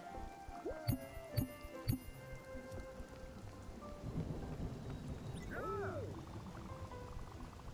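Thunder rumbles and cracks in a stormy scene in the video game Spiritfarer, with several sharp strikes early on, then rolling thunder and rain, fairly close and loud, with no talk.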